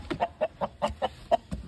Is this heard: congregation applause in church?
no